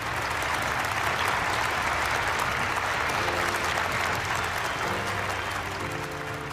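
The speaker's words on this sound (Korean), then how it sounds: "박수로 환영해 주십시오." An audience claps to welcome a panel of speakers at a panel discussion, dense, sustained applause at close range and fairly loud, holding steady with a faint murmur underneath.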